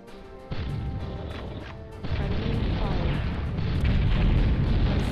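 Tank cannon fire and explosions in the BattleTanx video game, a booming blast followed by a second heavier crash and sustained rumbling debris, loud and close.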